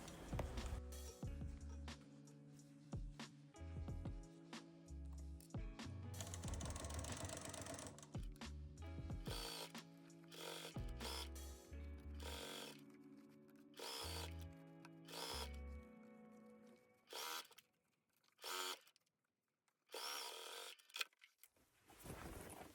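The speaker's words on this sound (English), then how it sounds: "So I'm sewing it in a little bit" Sewing machine running a seam on a fabric nine-patch bag, a close steady mechanical whir in long runs broken by short pauses and sharp stops, with no voices.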